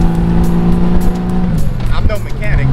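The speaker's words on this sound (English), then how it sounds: "I think I kind of dig the sound of the exhaust with the baffle out." Honda GL1500 motorcycle with an exhaust baffle removed: a loud, continuous low engine drone with a shifting pitch, running under a person's talking.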